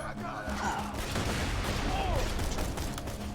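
Rapid pistol gunfire in the Borderlands 2 video game, a dense crackling stream of shots with game effects, fairly loud throughout with faint voices mixed in underneath.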